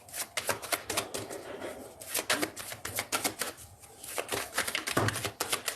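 A deck of tarot cards is cut and shuffled close by, giving dense bursts of riffling and slapping card noise in an irregular rhythm across the whole stretch, with no talking.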